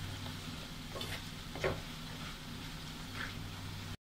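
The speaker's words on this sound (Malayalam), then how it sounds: "ഇതിൻ്റെ ആ ഒരു പച്ച കുത്തു മാറുന്ന വരെ നമുക്ക് വഴറ്റിയെടുക്കാം." Crab curry masala with chili powder sautés in a pan, giving a faint, soft sizzle with a few brief stirring scrapes before it cuts to silence.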